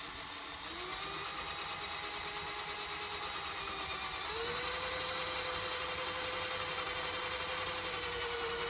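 A steady, whining motor hums continuously, its pitch stepping up slightly partway through, with no voices.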